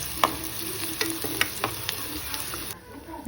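Garlic dropped into a pan of frying onion and cumin sizzles steadily while a spoon scrapes and stirs in quick rhythmic strokes, close and clear, before the sizzle drops away near the end.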